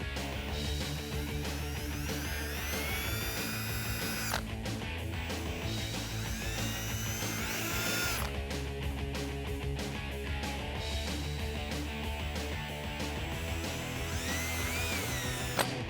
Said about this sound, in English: Now you can drill your hole through the spot that you marked.